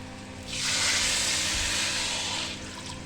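Cold water pours into a pot of khichdi, a broad rushing hiss that swells in, holds steady for about two seconds, then tapers off.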